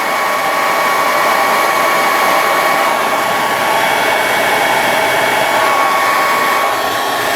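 Heat gun blowing hot air onto a 1/72 resin model part, a loud, steady, close whooshing roar with a constant whine throughout.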